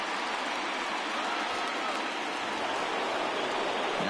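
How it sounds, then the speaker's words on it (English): Steady broadband hiss of rain falling throughout a baseball video game, even and constant with no talk over it. "Rain comes on now"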